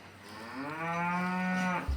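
An Angus feeder cow on a farm ahead of a livestock auction lets out a single long, deep moo that swells and then cuts off. It is close and clear over a quiet outdoor background.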